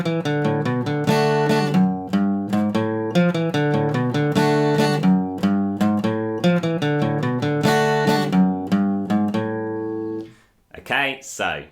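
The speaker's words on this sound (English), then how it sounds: "This song starts off with the main riff played 4 times in a row." Electric guitar plays a song's main riff four times in a row, a steady, bright repeating pattern of plucked notes that rings out clearly and alone, ending with a short pause and a brief noise.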